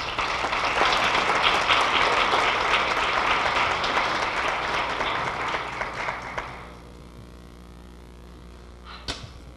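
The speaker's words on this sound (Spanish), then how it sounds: "Recibámosla con un fuerte aplauso," Audience applause at a youth and family forum fills the room loudly for about six seconds, then fades away, leaving near silence with a brief knock at the end.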